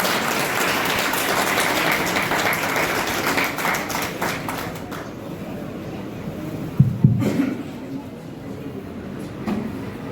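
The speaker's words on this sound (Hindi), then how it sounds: "एक बार जोरदार तालियों से माननीय कुलपति।" Audience applause at a university theatre and drama workshop event in India, a continuous crowd clapping wash that gradually thins out, with a few thuds later.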